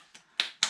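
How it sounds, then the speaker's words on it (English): Three quick, sharp hand claps in a home kitchen while Easter Peeps cupcakes are made, faint and close, spaced roughly a quarter second apart, the first softer than the next two. "Everyone clap."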